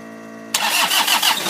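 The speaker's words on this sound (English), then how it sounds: "I will fire it up here, and this is put the key in here, this is a cold start" A cold 1985 Toyota 4Runner with a turbo engine cranks briefly and fires up, settling into a loud, close, steady idle with a rhythmic pulse after a compressor whine in the background beforehand.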